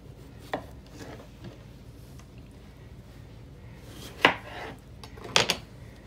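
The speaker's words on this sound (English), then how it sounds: "this is how we cut our cantaloupe" A knife cutting through a cantaloupe, trimming the top and bottom and slicing down the sides, giving a few close, sharp cuts and thuds against the board, separated by quiet handling noise.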